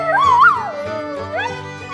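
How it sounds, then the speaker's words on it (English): A dog gives a rising, wavering howl-like whine that swells and falls, followed by a second shorter upward whimper, close and alone with no talk. "Dog."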